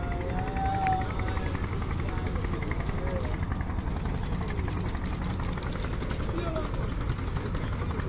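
Trawler boat engines run steadily on the Pasur river at Mongla, a continuous low diesel drone and rumble filling the whole stretch with no break, loud and close, with water and background noise mixed in.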